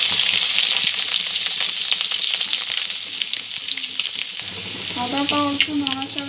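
Grated ginger and chopped garlic sizzle steadily in hot oil in a pan for a spicy prawn Manchurian, a dense continuous frying hiss with a few stirring scrapes and a light clink near the end.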